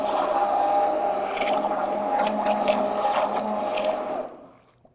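A Vitamix stainless steel 18-inch immersion blender runs in a pot of soup and is swept around the pot. A steady, close motor whine blends with soft swishing and scraping, then winds down and stops just before the end.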